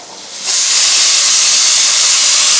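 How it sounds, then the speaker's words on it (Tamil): Chopped shallots hit hot oil with fennel and curry leaves in a pan, breaking into a sudden loud, steady sizzle after a brief quiet moment that continues at full strength to the end. "சின்ன வெங்காயத்தை நறுக்கி வச்சுருக்கேன் அதை ஆட் பண்ணிடலாம்"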